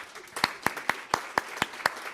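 A small group at the Agile NZ 2017 conference claps for a volunteer, giving about eight sparse, separate, fairly even claps, close and moderately loud, with no voices over them.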